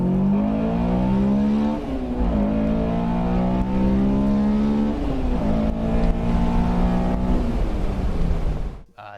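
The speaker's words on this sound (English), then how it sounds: "The intake is a great mod because it makes the car sound really good." A Honda S2000 engine with an aftermarket AEM intake revs up and down in long sweeping pulls, loud and close, with a throaty intake roar before it cuts off abruptly.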